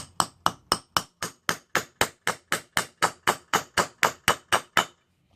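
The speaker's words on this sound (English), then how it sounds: "This is a good hammer." Steady, evenly spaced hammer blows, about eighteen sharp metallic strikes at a brisk rhythm, loud and close, while a Strat bar for a GY6 Givi top case mount is knocked into place, with no speech.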